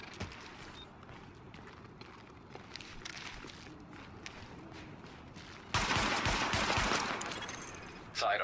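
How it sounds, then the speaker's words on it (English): Gunfire at highlighted targets in the video game Tom Clancy's The Division, rapid bursts of shots over a faint background bed, swelling into a loud sustained volley near the end. "Open fire at the highlighted targets."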